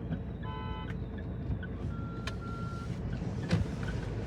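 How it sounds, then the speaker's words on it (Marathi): A car reverses with its reversing alarm sounding, a series of rapid electronic beeps followed later by a longer tone, over a low, steady engine and road rumble. "गाडी रिव्हर्सला घेतोय तो"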